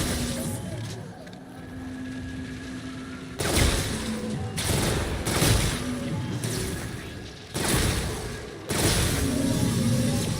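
A Mauler Sentinel gun fires in Call of Duty Zombies in loud sustained bursts, several long volleys of rapid automatic fire separated by short pauses, with game noise between the bursts.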